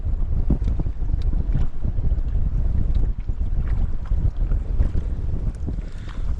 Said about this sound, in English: Frickin' wind just won't give up.